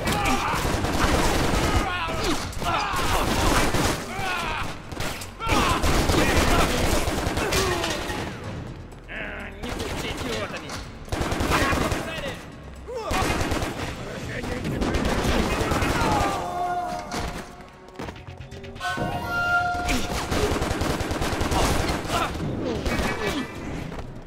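Rapid gunfire from assault rifles and shotguns in the video game Stranglehold comes in dense, loud bursts with booms and short pauses, while someone talks over the shooting.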